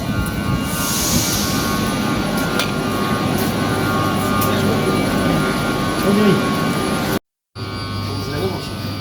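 A train idles at a railway platform, producing a steady low rumble and engine hum that runs through the whole stretch, briefly cutting out near the end, while people talk nearby.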